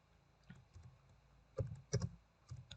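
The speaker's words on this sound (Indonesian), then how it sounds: "langsung saja kita ketik mount" Short bursts of keystrokes on a computer keyboard as a command is typed, a few quiet clustered clicks with pauses between, close and alone in a quiet room.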